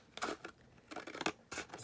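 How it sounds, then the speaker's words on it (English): Scissors snip through handmade marble paper in several crisp, close cuts, with short pauses between bursts and a final pair of snips, no voices. "I'm just going to go in with my scissors and cut that down."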